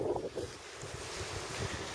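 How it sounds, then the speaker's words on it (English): The tide comes in under a castle on a Scottish beach, a continuous wash of waves and surf blended with buffeting wind noise on the microphone. "that is the tide fully coming in"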